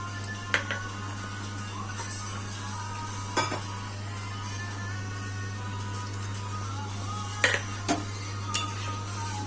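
Prawns go into a simmering curry of taro and potato, giving a steady close sizzle and hiss with a few sharp clanks of a utensil against the pan.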